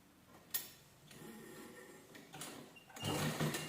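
A sewing machine stitches a small seam on leftover blouse fabric pieces for a table cover, with short bursts of running, a sharp tick, and a louder, denser run near the end, heard close and fairly quiet.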